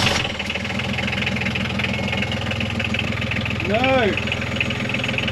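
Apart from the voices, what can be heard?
sailing boat engine attempting to start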